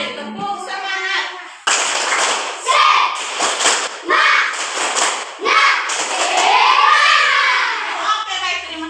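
A classroom of children performs the rhythmic 'tepuk semangat' spirit clap, with sharp group claps in a patterned beat mixed with loud children's shouting and chanting, close and lively.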